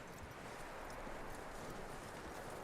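Horse hooves clip-clop in a steady, continuous rhythm in the video game Red Dead Redemption 2, set against a dense, noisy background.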